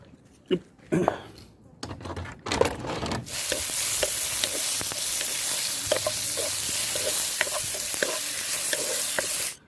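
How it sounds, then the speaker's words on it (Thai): Marinated pork drops into hot oil and settles into a loud, steady sizzle, with a few scrapes and clinks from handling before the frying takes over. "เดี๋ยวเรามาทอดกันเลยครับ"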